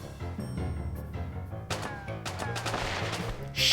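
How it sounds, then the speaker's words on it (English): Gunfire in the PS1 video game Suikogaiden Vol. 2, scattered sharp shot impacts set over a steady music score, with a louder burst near the end. "I'm literally dodging bullets"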